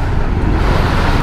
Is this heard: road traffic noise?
yes